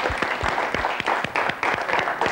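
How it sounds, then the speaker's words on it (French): A crowd gives a burst of applause for a football player, dense overlapping claps that are fairly loud and close, continuing steadily without talk. "applaudissements pour Jawad"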